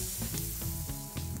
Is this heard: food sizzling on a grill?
yes